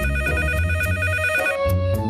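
A telephone rings in a nighttime cartoon scene, its bell tone repeating loud and steady throughout with a faint musical bed underneath.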